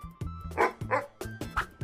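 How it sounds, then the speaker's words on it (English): Cartoon dog barking in quick repeated yips and woofs, about seven sharp barks in under two seconds, loud and close with nothing else over it. "a dog."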